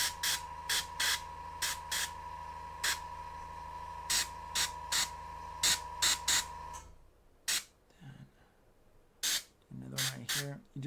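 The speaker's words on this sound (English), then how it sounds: "Hard spray." Airbrush spraying paint during a glazing job, heard as a steady hiss with a high whine that breaks off repeatedly in short bursts, then continues as a scattered, intermittent spray with a voice faintly underneath.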